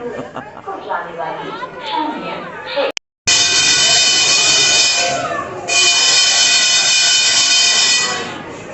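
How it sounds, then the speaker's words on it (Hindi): Ooty toy train of the Nilgiri line pulling out of the station on a Sunday, a steady loud rumble with a bell ring and a brief horn-like tone, while people chatter nearby. "तो गाइस ऐसे रिंग होती है बेल और फिर ट्रेन निकल पड़े।"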